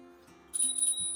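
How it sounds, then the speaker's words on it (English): A small bell on a VSETT 8 electric scooter rings with a bright, high metallic chime after a brief quiet moment, close and clear, fading out quickly. "Pretty little bell"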